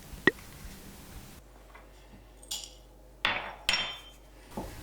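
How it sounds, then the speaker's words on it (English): Black peppercorns are coarsely crushed for a steak au poivre sauce, with a handful of sharp, irregular knocks and cracks, close and fairly crisp, separated by quiet pauses. "I'm not crushing these peppercorns too finely, as I like to retain a bit of texture in the sauce"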